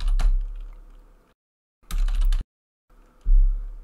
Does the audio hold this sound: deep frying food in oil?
no